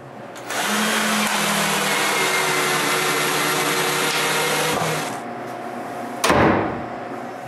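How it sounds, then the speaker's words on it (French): A workshop dust collection system drones steadily and loudly for several seconds with a constant whine, then winds down near the end before a brief knock. "J'installe donc mon système de dépoussiérage."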